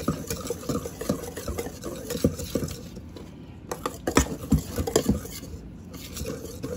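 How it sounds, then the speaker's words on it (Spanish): A coconut coffee soap mixture is whisked in a bowl, giving quick, rhythmic scraping and tapping strokes that come in uneven bursts, close and fairly quiet, with no talking. "Pero lo voy a batir bien para que quede bien batidito"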